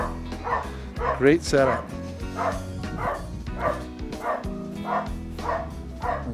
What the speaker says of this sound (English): The dog's not happy.